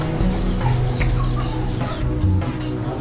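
Chickens clucking at a poultry farm beside a black soldier fly larva operation, a busy overlapping chorus of nearby hens with varied calls, fairly loud and continuous.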